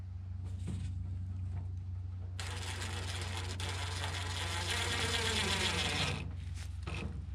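Ratcheting and mechanical tool noise while tightening bolts on a Mazda 3 fuel tank, a steady several-second stretch of clicking, whirring work over a constant low hum, loud and close.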